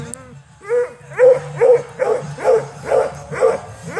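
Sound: coonhound barking at a rabbit

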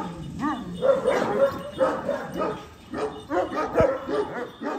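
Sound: Kangal dogs barking

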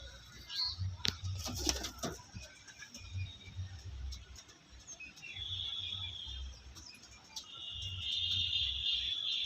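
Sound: pigeons released, cooing and fluttering

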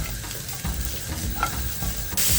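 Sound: sautéing boiled blessed thistle with garlic in a pan

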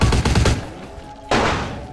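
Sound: Uzi gunfire in a video game

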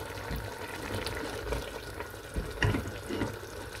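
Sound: water poured into a pan beside the chicken

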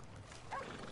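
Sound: horse hooves and whinny in video game Red Dead Online

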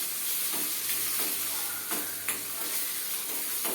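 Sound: curry leaves sizzling in the pan

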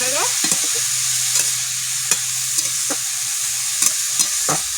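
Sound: stirring kohlrabi and egg frying in a pan

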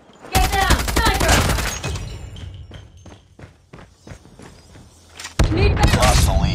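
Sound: sniper gunfire in a video game firefight

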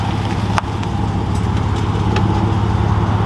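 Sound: 2020 Scat Pack Charger engine idling with carbon exhaust tips

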